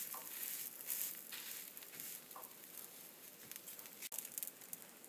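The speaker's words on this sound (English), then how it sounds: "The paratha has now been frying for about 30 seconds on the tawa" Quiet sizzling of an aloo paratha frying on a hot tawa, a soft steady crackle with faint pops and a brief bump near the end.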